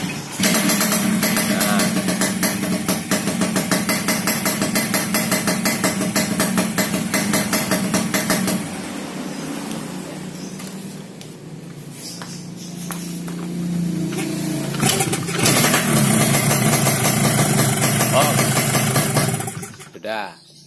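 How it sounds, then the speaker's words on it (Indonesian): A 2003 RX King motorcycle engine with an over-open membrane and weak performance idles steadily with a rough, buzzing rumble, dipping briefly in the middle before revving back up. "Ini motor suaranya nggak kasar-kasar banget sih, cuman kayak kurang performa gitu."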